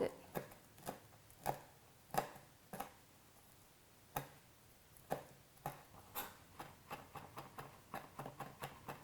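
Herbs are minced with a knife on a cutting board: faint, crisp taps, sparse and uneven at first, then quickening into a rapid run of light strikes.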